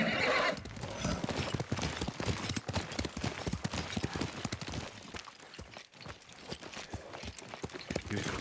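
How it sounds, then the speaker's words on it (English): Horse hooves clip-clop in a steady, close rhythm with a whinny near the start, from a horse in the Ghost of Tsushima video game, with no talk over it. "Yuriko's horse."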